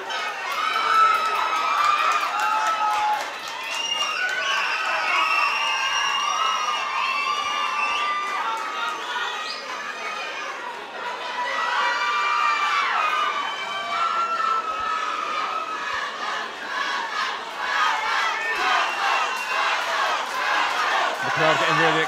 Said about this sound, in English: crowd getting really excited now.